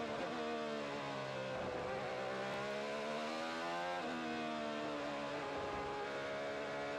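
IndyCar race car engines at the Long Beach street race, a continuous high whine from distant cars that rises and falls through gear changes and passes, steady and faint with no talk.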